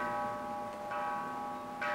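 A Buddhist temple bell rings with a sustained, shimmering metallic tone that hangs steadily throughout, with faint soft knocks and handling noises nearby during a Hongwanji mission tribute.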